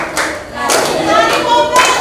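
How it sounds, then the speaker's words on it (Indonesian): Children clap their hands while jumping during a classroom activity, about four sharp, separate claps spread across a couple of seconds, with young voices audible in the background. "Mari kawan tidak berbicara, lompat sambil tepuk tangan."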